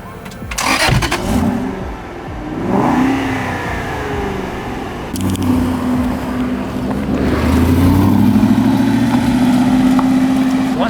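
A 2008 Aston Martin Vantage convertible engine starts and revs, its exhaust note rising to a loud, sustained roar that builds toward the end.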